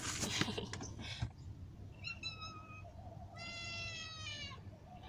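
A cat meows twice, short then drawn-out and high-pitched, close by, following a brief burst of rustling noise.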